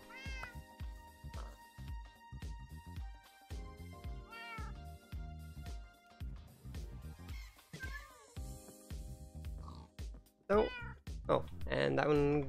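A Minecraft kitten meows repeatedly, high and close, between game music notes and clicking steps, growing louder and more frequent near the end.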